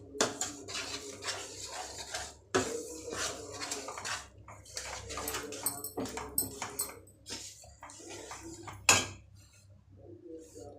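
Flour dough for salimidi being mixed in a metal pan, a run of close clattering scrapes and clinks of utensil against metal, irregular and busy, easing off near the end.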